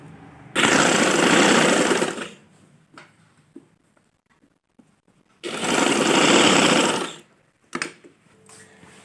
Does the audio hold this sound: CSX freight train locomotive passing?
no